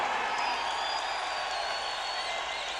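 A boxing arena crowd roars after the final bell of the James Toney versus Charles Oliver fight, a steady wash of cheering and applause that sounds distant and sustained.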